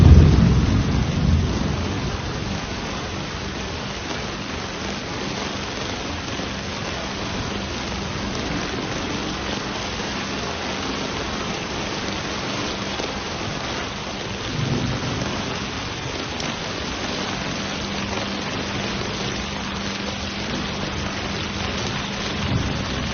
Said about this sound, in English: a slow-moving storm system unleashed a torrent of rain across the hill country